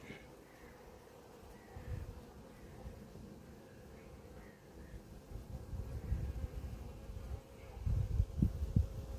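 A full colony of honeybees buzzes at an apiary, a steady low drone close by that swells louder toward the end with brief nearer passes.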